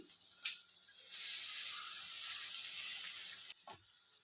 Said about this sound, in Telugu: ఇప్పుడు మనం ఎగ్స్ చెదగొట్టుకొని వేసేయాలండి.